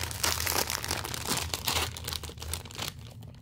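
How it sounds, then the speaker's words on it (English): A SpongeBob popsicle wrapper is peeled open with close, continuous crinkling and tearing of thin plastic, loud and busy at first, then easing off toward the end. "Unwrap the popsicle."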